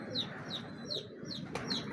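A domestic pigeon from an old Teddy-type lineage coos in a quick, steady series of throaty calls, about five in two seconds, close and moderately loud with no talking.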